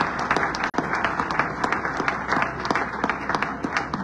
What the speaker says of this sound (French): il faudrait qu'on applaudisse à nouveau une troisième fois le docteur Calamand